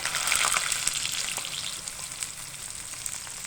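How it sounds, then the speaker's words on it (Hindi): Okra pieces frying plainly in hot cooking oil without any spices or salt, giving a steady, fairly loud sizzle with crackling pops throughout and no voices. "बिल्कुल सादा आपने यहाँ पे भिंडियों को फ्राई कर लेना है"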